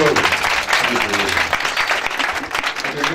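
A church congregation at a Sunday service applauds and cheers, dense sustained clapping filling the room throughout with voices mixed in.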